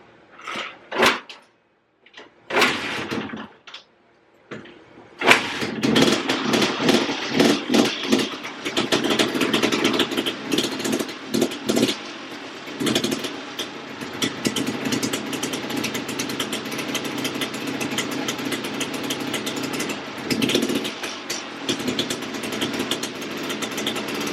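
Loud Suzuki 250 motorcycle engine that sputters and catches after a few short bursts as the choke is taken off, then settles into a steady, low, rumbling idle close by.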